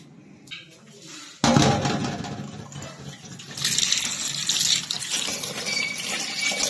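Peeled spices are washed under a running kitchen tap in a village home. After a quiet moment, the water bursts on abruptly and keeps gushing and splashing steadily into the sink.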